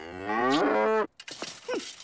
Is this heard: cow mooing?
yes